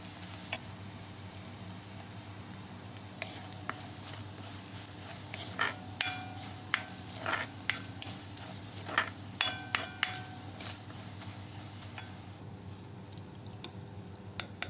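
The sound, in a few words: chili powder, meat masala and pepper roasting in pan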